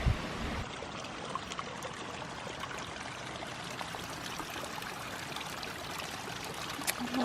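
A mountain stream near a lakeside ranger hut on a long-distance hiking trail flows steadily, a continuous close rushing and trickling with small splashes, no voices.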